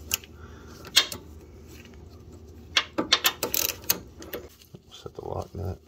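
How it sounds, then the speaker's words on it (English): Ratcheting wrench tightening the steering box lock nut on a 1999 Chevrolet Suburban, several short bursts of close clicking with metallic clatter between brief pauses. "Set the lock nut."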